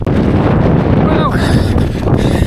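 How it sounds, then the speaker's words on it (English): Strong wind buffeting the microphone on an exposed fell top at a trig point during a hill race, a loud continuous roaring rush with gusty surges throughout. "It's really windy."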